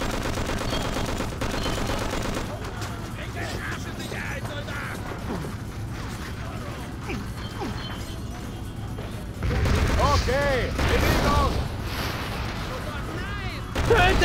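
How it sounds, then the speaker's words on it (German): Gunfire in the Just Cause video game, bursts of shots and clattering mechanical noise beneath steady game sound, growing louder and busier in the last few seconds, with someone talking in German over it. "Ich habe mal versucht drauf zu schießen"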